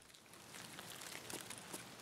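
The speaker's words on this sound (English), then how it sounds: "Can't hear anything because of the rain though" Steady rain patters in the Escape From Tarkov game, a soft, even wash of drops with scattered sharper taps, constant across the whole stretch and fairly faint.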